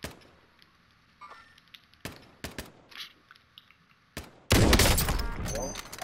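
Gunfire in Call of Duty Warzone: scattered single shots early on, then a loud sustained burst of fire and clatter in the final seconds, with players talking over it.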